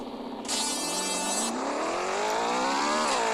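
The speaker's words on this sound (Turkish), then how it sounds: "Dümdüz yolda arabalar hızlanır mı hızlanır" Racing video game cars accelerate along a straight road, engines whining higher in pitch as they rev up steadily, with a brief bright burst near the start and continuous loud motor tone throughout.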